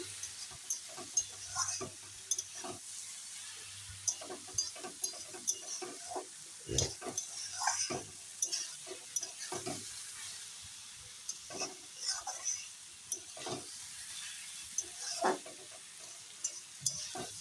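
Cabbage stir-fried on high heat gives a quiet, faint sizzle broken by repeated scraping and knocking strokes of a spatula against the pan.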